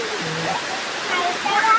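Heavy rain pours down outdoors in a steady, rushing hiss while a person talks over it.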